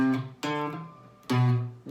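Guitar strings ring out unmuted in two separate strums, each sustaining and decaying clearly, close and alone.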